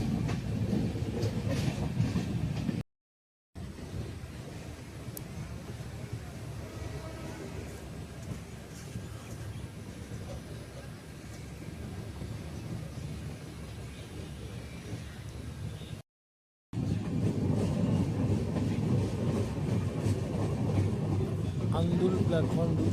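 Gorakhpur–Shalimar Express train running toward Howrah past suburban station platforms, a continuous low rumble and rattle of wheels on track heard from inside the moving train, with voices talking over it and two brief cuts to silence.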